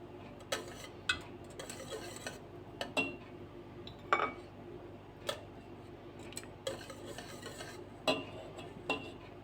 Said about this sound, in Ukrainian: Також перемішуємо до повного розчинення.